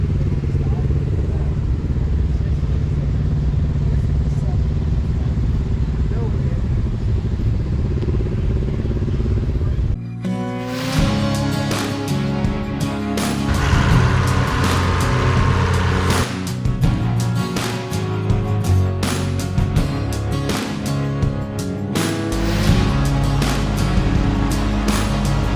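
A Steiger Panther PTA 325 tractor with a Cat 3406 engine runs with a steady low drone for about ten seconds, then busier clattering and louder mixed sounds take over.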